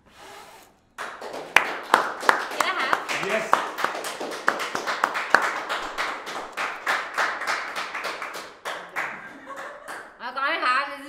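A small group claps hands in a quick run of sharp, uneven claps, near and fairly loud, with voices talking and laughing over them.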